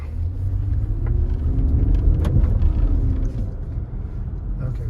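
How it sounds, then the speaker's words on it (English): A 2022 SUV engine, either a Toyota Highlander or a Nissan Pathfinder, runs with a steady low rumble and a rising and falling drone for the whole stretch. The sound is fairly close, with no talk over it. "I want you to hear the engine"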